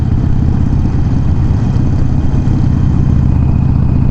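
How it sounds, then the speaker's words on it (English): A group of scooters filters past a pack of riders on Harley-Davidson motorcycles at night, a loud, continuous low engine drone of several idling and rumbling motors close by with no talk. "Why is there a fucking scooter group riding with us?"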